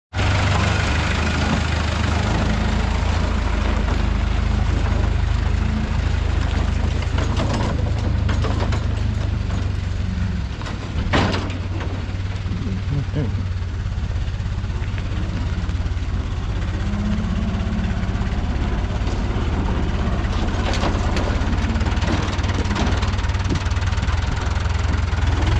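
A Fiat 640 tractor engine idles steadily and close, a continuous low knocking rumble that holds for the whole stretch with no talk over it.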